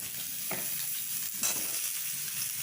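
Potatoes and whole pointed gourds fry in a pan for an egg-and-pointed-gourd dish, giving a steady close sizzle with a few soft stirring scrapes and no voices.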